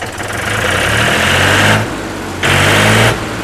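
A loud tractor engine runs close by, its rumble rising and dropping as it is revved twice, with a brief easing between the bursts.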